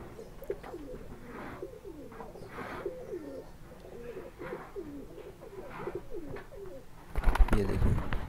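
Pigeons of fancy breeds, Teddy and Kamager, coo repeatedly in a loft, a steady run of low throaty calls at close range, with a louder burst of rustling or clatter near the end.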